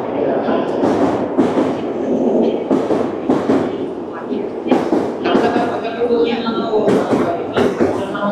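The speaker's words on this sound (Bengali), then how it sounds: "অলমোস্ট টাইমেই চলে এসেছে আমাদের ট্রেন।" A Japanese Hayabusa bullet train arrives at a northern-route platform with a loud rushing rumble and rhythmic bursts. Someone talks over it throughout.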